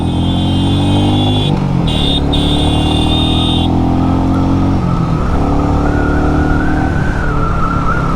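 A Royal Enfield Meteor 350 BS6 cruiser motorcycle rides off in first gear, with a loud, steady single-cylinder engine drone. The engine note climbs in pitch as the bike accelerates, and a high whine fades partway through.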